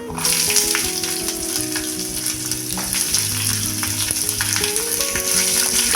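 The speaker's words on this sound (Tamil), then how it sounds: "வெங்காயத்தை நல்லா வதக்கிக்கலாம்" Chopped onion sizzles and fries steadily in a pan for sunday-style thuvaiyal prep with sundakkai, a dense continuous crackle with occasional stirring scrapes and a low background hum, no voices.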